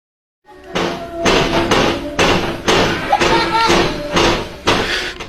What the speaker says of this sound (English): Knocking window.